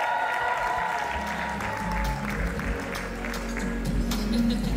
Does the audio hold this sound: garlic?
no